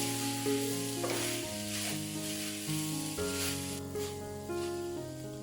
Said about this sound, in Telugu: మీడియం ఫ్లేమ్ పెట్టుకొని ఈ విధంగా 1 నిమిషం ఇట్లా వేగనిద్దాం.